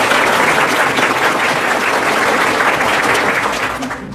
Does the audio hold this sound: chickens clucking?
no